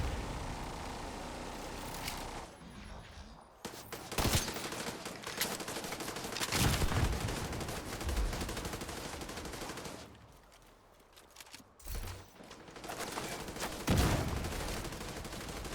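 Bursts of video game gunfire, including rapid automatic fire, come in several loud clusters over a steady game soundscape, with short quieter gaps between volleys and no voices.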